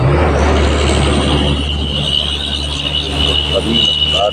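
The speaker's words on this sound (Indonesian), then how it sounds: "Mobil tangki" A tanker truck rolls past on a highway near the coast, a loud, close, broad rumble of engine and tyres that swells and fades slightly across the few seconds.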